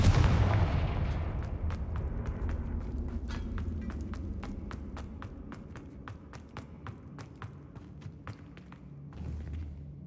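Confringo blasting spells fire in Hogwarts Legacy, a long run of sharp, evenly spaced cracking bursts following an initial heavy rumble, with a muffled thump near the end.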